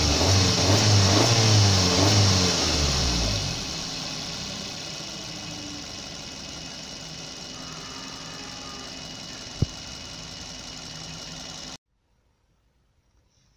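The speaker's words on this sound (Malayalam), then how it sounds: "ഇനി ആക്സിലേറ്റർ കൊടുത്ത് കാണിച്ചു തരാം." Maruti Suzuki Baleno engine revving loudly for a few seconds, then settling into a steady idle with a faint click, before the sound cuts to silence.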